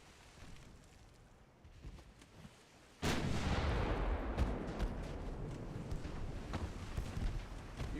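Naval gunfire in the warship game Ultimate Admiral Dreadnoughts: after a quiet stretch a heavy boom hits, followed by a sustained roaring barrage with repeated muffled shell blasts continuing loudly to the end.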